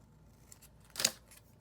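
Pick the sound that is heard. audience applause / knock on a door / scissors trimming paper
scissors trimming paper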